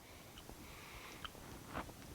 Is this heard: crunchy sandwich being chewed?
yes